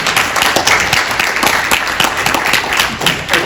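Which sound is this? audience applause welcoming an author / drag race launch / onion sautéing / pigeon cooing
audience applause welcoming an author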